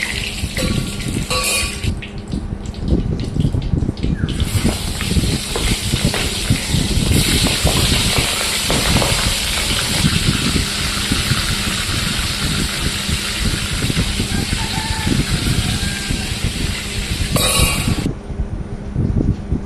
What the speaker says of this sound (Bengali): এক ঘন্টা পরে পাতায় বেঁধে তারপরে ছাঁকা তেলে ভাজা হচ্ছে।